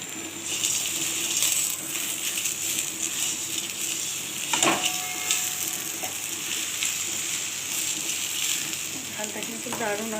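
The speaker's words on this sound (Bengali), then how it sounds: "দেখো এখন বেগুনটা ভালোভাবে সঙ্গে ভাজা হচ্ছে।" Eggplant and red amaranth greens fry in a wok with a steady, close sizzle throughout, broken by occasional stirring scrapes and small metallic clinks, while a voice speaks briefly.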